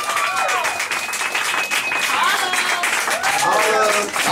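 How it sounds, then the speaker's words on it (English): Sustained audience applause and clapping at a poetry reading anniversary event, a dense continuous wash of hands throughout, with a voice speaking over it. "Keep clapping, keep clapping."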